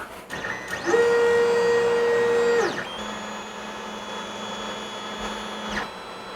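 A Creality Ender 5 Plus 3D printer runs its bed-leveling routine, stepper motors whining in a steady tone for about two seconds, then a lower mechanical hum with faint sweeping motor pitches continuing nearby.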